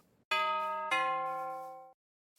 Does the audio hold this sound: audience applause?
no